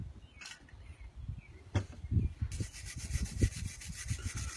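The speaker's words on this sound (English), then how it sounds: "And I'm going to clean it up real good. Scrub it." A metal tab being scrubbed clean before stick welding, close rough rubbing and scraping strokes that grow into a steady rapid back-and-forth scrub, with no talking.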